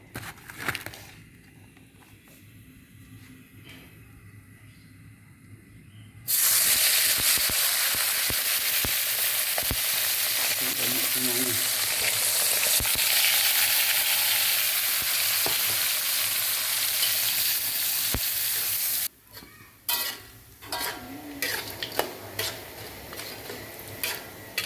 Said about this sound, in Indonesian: selanjutnya kita goreng ikan teri asin yang udah dibelah ini